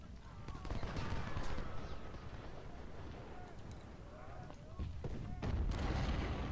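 Artillery guns fire in a Civil War strategy game, a dense rumble of distant booms and battle noise that rolls on continuously, with heavier volleys near the start and the end, while a voice speaks over it.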